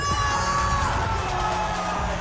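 A loud crowd roars and cheers continuously at a Rocket League esports tournament in Raleigh, with whoops and yells rising over the din throughout.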